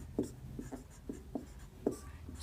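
Pen scratching out a math solution by hand on paper, several short distinct strokes at an irregular rhythm, close and fairly quiet with no talk.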